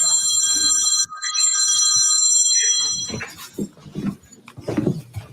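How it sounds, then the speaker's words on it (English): A phone ringtone trills with bright repeating tones for about three seconds, then cuts off as people talk over other noises. "That's his ringtone."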